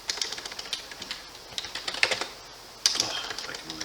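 Quick bursts of keystrokes on a computer keyboard, crisp clicks in uneven clusters with short pauses between, close and fairly loud with no talk over them.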